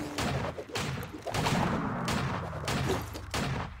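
Shooting in the game Vainglory, with repeated bursts of gunfire coming in rapid volleys and separated by short gaps. The shots are fairly loud and close, with no talking over them.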